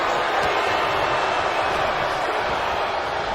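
A steady, dense roar of crowd cheering from the wrestling game WWE 2K25 during an NXT match, loud and continuous without a break.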